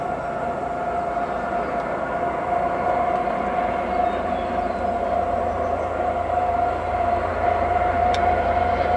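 A CP intermodal stack train hauled by two GE ES44AC locomotives rumbles steadily past with a loud sustained horn tone, close and continuous throughout.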